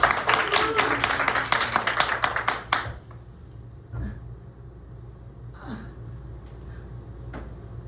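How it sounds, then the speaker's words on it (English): Audience applause at a live show: a dense round of clapping fills the room for about three seconds, then stops abruptly, leaving a quiet hall with a few faint thumps and voices. "one round of applause"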